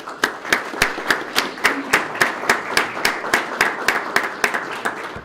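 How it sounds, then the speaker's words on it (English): Small audience at a Sarasota Police Department awards ceremony claps in a steady, evenly spaced rhythm of about twenty sharp claps, close and moderately loud with no talking. "So let's give everybody a round of applause"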